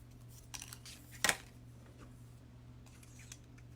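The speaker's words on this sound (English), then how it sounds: "I need to cut a little bit" Scissors snip paper during card making, one short crisp cut up close against a quiet room, with a few faint handling clicks around it.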